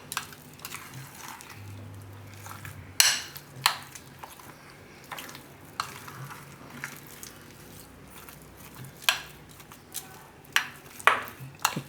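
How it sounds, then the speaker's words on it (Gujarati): Strawberry shrikhand being stirred in a bowl: soft, close, wet squishing with intermittent spoon clinks against the bowl at an uneven rhythm, fairly quiet and with no talking. "તો આ રીતે મિક્સ કરી લેવાનું."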